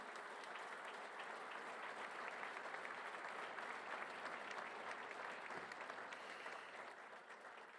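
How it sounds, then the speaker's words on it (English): A conference audience gives sustained, dense applause at a moderate distance, steady clapping that holds throughout and tapers slightly at the end. "I want to ask for a big round of applause for Agustín."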